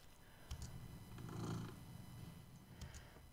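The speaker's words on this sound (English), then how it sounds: "Yes, he's purring because he's near his dad." Quiet, rhythmic purring from a male cat sitting close to his owner, soft and continuous with a gentle swell in the middle, heard alone without talk.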